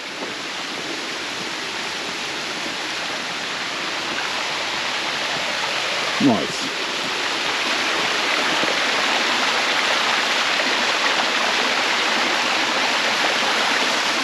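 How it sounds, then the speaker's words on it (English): A small waterfall and stream on a snowy hike to Monument Peak from Ed R. Levin park produce a steady, close rushing of water, broad and continuous throughout, with a single brief spoken word partway through. "Yeah, we even got some waterfall action here."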